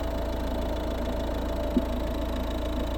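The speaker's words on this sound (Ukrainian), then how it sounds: "Ось робота двигуна." A 2010 Volvo V50's 1.6 D2 diesel engine idles steadily with a low, even rumble and faint knocking, continuous throughout with no voices.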